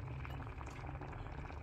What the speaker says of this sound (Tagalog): So, ayan, kumukulo na siya.